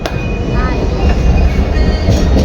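A train rumbles loudly along the tracks from inside, with a steady roar, rattling clatter and a faint squeal.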